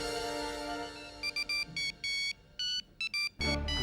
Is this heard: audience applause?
no